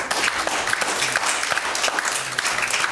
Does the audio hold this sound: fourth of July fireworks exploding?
no